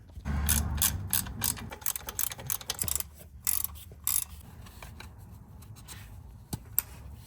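A hand ratchet clicks rapidly while tightening the bolts of a transfer case shift motor, in quick close bursts of pawl clatter separated by short pauses, then tapering to a few scattered clicks and a faint metallic tap.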